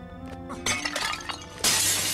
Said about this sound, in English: I'm gonna break all the glass.